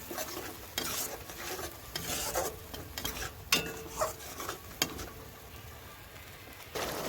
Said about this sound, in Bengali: আস্তে আস্তে আমি কষতে থাকবো যতক্ষণ না মশলা থেকে তেল ছাড়বো